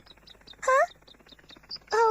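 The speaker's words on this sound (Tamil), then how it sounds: "அது பிச்சி இல்ல, வேற ஏதோ ஒரு பறவை" A small bird gives a repeated series of short high chirps, broken twice by louder wavering calls, fairly close in quiet surroundings.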